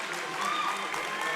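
A basketball crowd at a high school doubleheader applauding, a brief burst of clapping and cheering from the stands that stays steady and fairly close for its short length.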